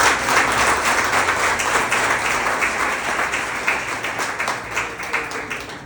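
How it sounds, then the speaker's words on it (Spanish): A church congregation breaks into sustained applause, dense and loud from the start and tapering slightly over several seconds, with many hands clapping together and no voices over it. "Y démosle un fuerte aplauso a las personas."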